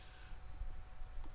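A sublimation heat press gives a single high, steady electronic beep lasting about half a second when its cycle finishes, heard fairly faint over low background hum.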